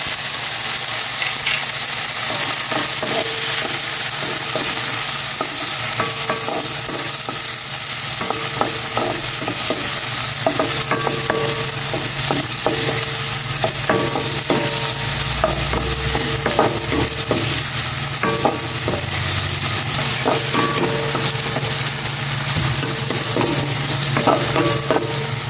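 Chopped onions and tomatoes frying and sizzling in a pan for a Filipino dish with bottle gourd and sardines, a steady close sizzle with stirring and scraping throughout, no talk.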